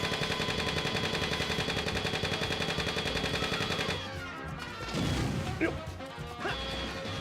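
Scattered enemy gunfire in the Cowboy Bebop video game, a few sharp cracks and a short burst following a steady musical backdrop, fairly quiet with no talk.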